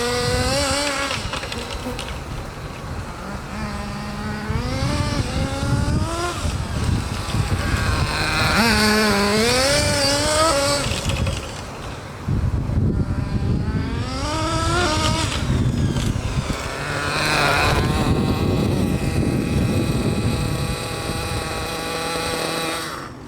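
A Hobao Hyper VT Nitro .30 RC car with a three-needle carburetor and stock gearing screams loudly and continuously, its high-pitched engine note rising and falling in repeated acceleration bursts with a brief dip midway, no talking.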